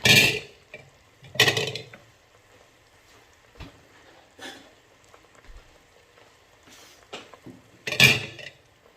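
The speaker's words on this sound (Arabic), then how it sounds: "غادي نجيبو الطبسيل من المجمد." A baking tray is taken out of a freezer in a home kitchen while making honeyed lemon or orange Ramadan sweets, giving several separate metallic clatters and knocks, close and moderately loud, with quiet pauses between.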